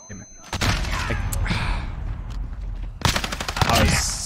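Rapid bursts of gunfire in the video game Call of Duty: Modern Warfare, loud clattering volleys in two clusters separated by a brief lull, with game effects in between.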